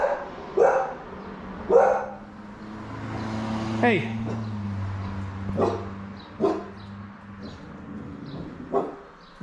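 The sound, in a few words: guard dog barking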